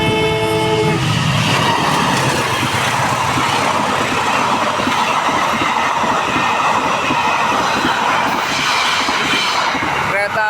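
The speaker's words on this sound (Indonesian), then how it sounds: "sudah terlihat kereta api Malioboro Express melintasi stasiun Ngadiluwe" A train horn sounds, then the Malioboro Express roars steadily past at speed through Ngadiluwih station, wheels clattering and rumbling loudly and close by throughout.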